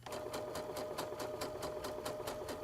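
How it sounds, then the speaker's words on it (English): A sewing machine runs a 1-inch seam with a steady, rapid mechanical rhythm of needle strokes, close and continuous throughout without any talk. "I'm going to sew from there down with a 1-inch seam allowance"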